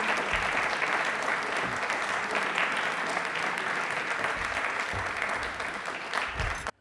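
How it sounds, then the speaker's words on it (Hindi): Sustained loud applause from a large audience, steady clapping throughout that cuts off abruptly at the end. "तालियां हमारे प्रधानमंत्री जी के लिए भी, तेजस के लिए भी जोरदार होनी चाहिए प्लीज।"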